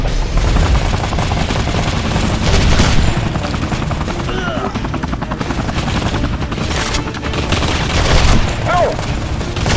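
Gunfire in the shooter game Modern Combat 3 during a helicopter deployment, with dense, continuous bursts of shots over steady helicopter rotor noise, loud and close throughout, while voices shout in the mix.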